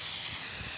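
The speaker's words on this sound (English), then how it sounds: "So now I'm spraying it on this taffeta here" A steady, continuous aerosol hiss of spray adhesive onto taffeta fabric for just under a second, broad and close, with no talking.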